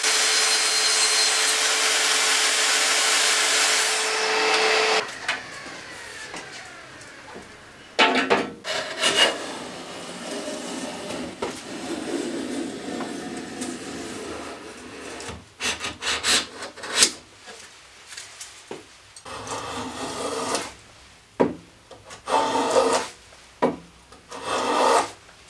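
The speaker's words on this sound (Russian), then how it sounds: "сейчас мне осталось убрать все лишнее с помощью пилы и рубанка" Hand saw and hand plane trimming excess wood off a kitchen drawer front: a sustained loud rasping for about five seconds, then irregular bursts of scraping and shaving strokes with short pauses, close up with no talking.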